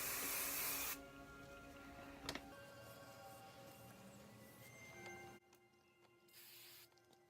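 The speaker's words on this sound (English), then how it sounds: "And then I just spray my hair." Hair spray hisses from a can onto natural hair, with a loud spray burst at the start, a quieter stretch, then a second shorter spray near the end, close and without talk.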